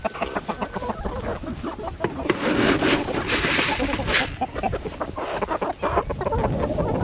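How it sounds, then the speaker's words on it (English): Chickens clucking steadily in a pen on a cattle farm, a dense, continuous chorus of overlapping clucks close by, with a few louder calls standing out. "Chickens!"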